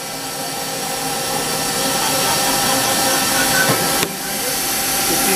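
A 2005 Mori Seiki MT 1500SZ CNC lathe's main spindle spins at about 2000 RPM, a steady high whine and airy hiss close by, with a brief shift in tone near the end.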